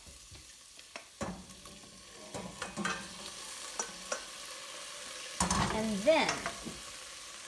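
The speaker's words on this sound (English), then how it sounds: "let them pan fry just a little bit, the actual leaves" Leafy greens pan fry with cooked pasta added on top, giving a quiet sizzle broken by scattered clinks and scrapes of stirring. A voice speaks briefly.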